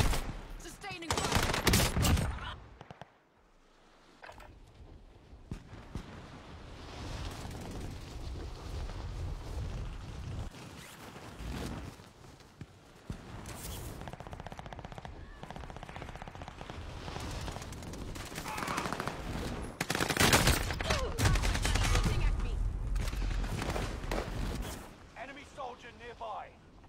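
Sustained bursts of gunfire in a roleplay video game, dense rattling volleys that swell and ease over almost half a minute, with a voice talking over the shooting.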